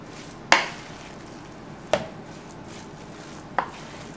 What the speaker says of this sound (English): Mixing it for a while in the large bowl.